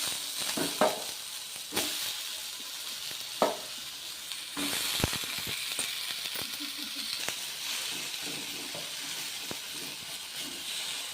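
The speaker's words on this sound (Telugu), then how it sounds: "కొంచెం ఫ్రై అయ్యాక టమాటాలు అండి, టమాటాలు వేసుకోండి." Tomatoes and green chillies fry in a spoonful of oil in a pan for a Telugu tomato chutney, giving a steady close sizzle with occasional clinks and stirring scrapes and no voices.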